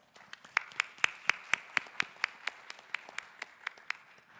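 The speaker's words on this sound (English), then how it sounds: "let's give our panel members a round of applause" A panel audience at an AI conference applauds with sharp, distinct claps in a steady, fairly sparse rhythm, alone with no talking.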